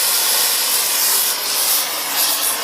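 A torch roars steadily as it heats a metal part, a loud, continuous hissing rush with slight surges and no voices.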